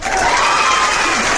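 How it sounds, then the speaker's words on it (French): A crowd gathered at a public denunciation in Côte d'Ivoire applauds and cheers in a dense, steady wash of clapping and voices, close and loud for the whole stretch. "On applaudit pour ça déjà."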